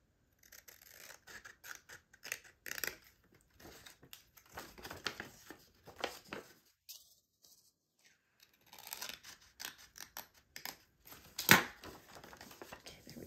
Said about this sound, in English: I'm gonna cut these 2 side flaps off